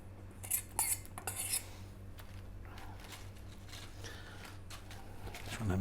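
Cutlery clinks against a dish while baked beans are mixed for baked nachos, a few quick metallic taps early on, then soft, quiet stirring and scraping.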